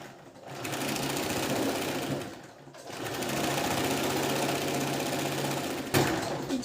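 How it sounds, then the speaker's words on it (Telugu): A sewing machine stitches the folded edge of blouse cloth, a steady loud mechanical hum with rapid needle chatter up close, briefly slowing and stopping before running on. "ఎక్స్ట్రా క్లాత్ని ఇలా ఫోల్డ్ చేసి కుట్టిస్తాను"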